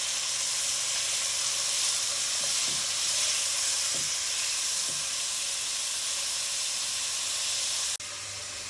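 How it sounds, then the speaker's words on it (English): Onion and apple sizzle steadily in a hot pan, a constant hissing fry with a few soft clinks of stirring, ending with a brief drop in level. "Start by frying up your onion and apple."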